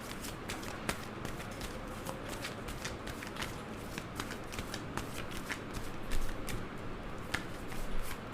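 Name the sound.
tarot cards being laid out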